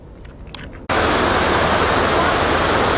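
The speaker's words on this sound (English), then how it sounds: "They got a really nice tall waterfall here." Tall waterfall in Crater Lake National Park, Oregon: a steady, loud broadband roar of falling water that bursts in abruptly after a quiet opening and stays constant and close to the end.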